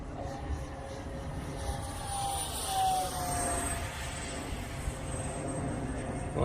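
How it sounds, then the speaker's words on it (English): A twin 64mm EDF Arrows MiG-29 radio-controlled jet flies overhead, a steady whooshing whine that swells and shifts pitch as it passes, with a faint high tone above the rushing noise. "But this plane actually flies really nice and smooth."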